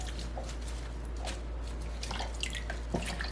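Water drips and patters softly as freshly washed lettuce is shaken over a strainer, giving faint, scattered droplet sounds close by with no talk.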